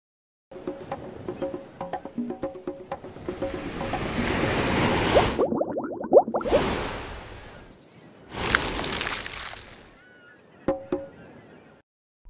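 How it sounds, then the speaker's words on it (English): Ocean waves in the Endless Alphabet game swell and wash in two or three rushing surges separated by quiet gaps, with light splashing and chopping water sounds between them. "Wave. A wave is when the top of the water moves."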